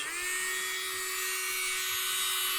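A collet-chuck drill spins at high revolutions on alabaster with a steady, close, high-pitched electric whine. The hum holds constant from start to finish with no talking.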